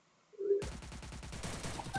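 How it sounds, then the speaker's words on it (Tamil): Rapid gunfire in the Free Fire battle royale game, a burst of repeated loud shots in quick succession after a brief quiet moment, close and sustained. "சச்சின் வீட்டுக்குள்ள இருந்து அடி பண்ணேன்."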